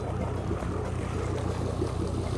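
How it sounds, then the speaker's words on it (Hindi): A sailboat's motor idles while warming up, a steady low chugging drone with a continuous rumble, close by and moderately loud, with no speech. "अभी हमने मोटर ऑन कर दी है, अब आवाज़ सुन रही होगी आपको थोड़ी थोड़ी।"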